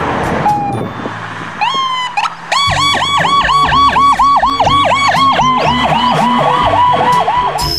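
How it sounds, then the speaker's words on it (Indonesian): A toy ambulance siren wails in a steady, looping electronic two-tone pattern, loud and close, after a few brief clicks and tones at the start. "Wah, ada mobil ambulans."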